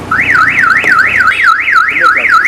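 Car alarm sounding off from a used car's remote lock, a loud, close electronic siren sweeping up and down in rapid repeating wails, alone without talk.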